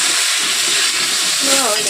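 Cauliflower pieces frying in oil produce a loud, dense, steady sizzling hiss heard close by, with a faint wavering tone near the end.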